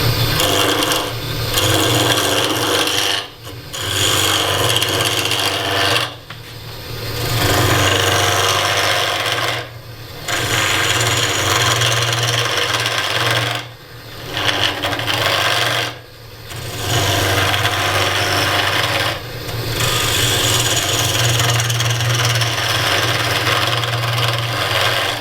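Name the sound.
wood lathe turning a blank with a spindle gouge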